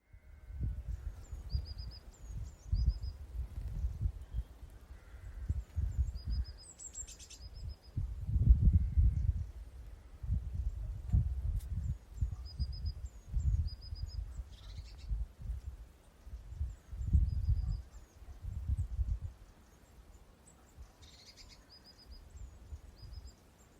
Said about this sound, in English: Some kind of bird.